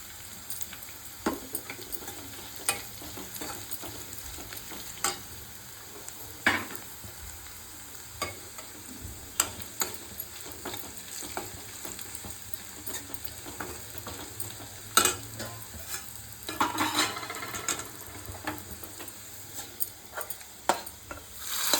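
Curry leaves crackle and sizzle in hot oil for gongura dal, a steady close frying hiss with scattered sharp pops and spits and a few louder bursts, no talking.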